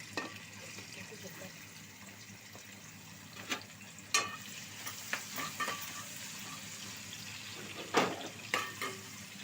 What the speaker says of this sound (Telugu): ఒక పెద్ద ఉల్లిపాయ కట్ చేసుకున్నది వేసుకుంటున్నామండి.